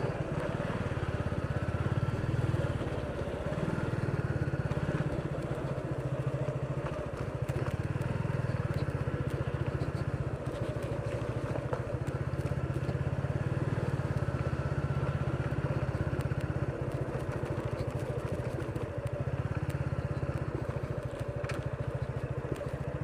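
A motorcycle riding through village streets in Charkhai, Beanibazar, its engine droning steadily and continuously up close with slight surges in throttle, no pauses throughout.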